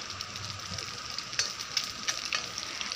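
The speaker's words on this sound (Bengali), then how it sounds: "কণী ভাজি আছে" Eggs fry in a pan with a soft, steady sizzle and occasional small pops and spits, heard up close at low volume.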